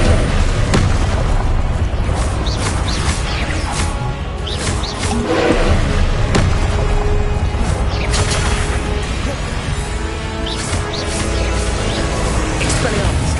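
Repeated Confringo explosive spell blasts in Hogwarts Legacy, a string of loud booming bursts at irregular short intervals amid combat noise, with spell names shouted throughout.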